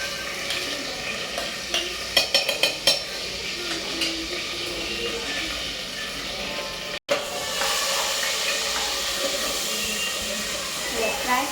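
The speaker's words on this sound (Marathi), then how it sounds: "हे बघा छान फ्राय झाले तर आपण पेस्ट टाकून घेऊ" Ginger garlic paste frying with cumin and mustard seeds, a continuous sizzle and hiss with quick clattering stirs early on, a brief dropout midway, then steady frying again.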